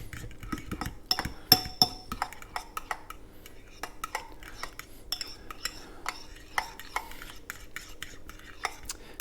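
A utensil stirs melted butter into keto pumpkin chaffle batter in a bowl, with repeated soft scraping and sharp clinks of metal against the dish, close and irregular with no talk.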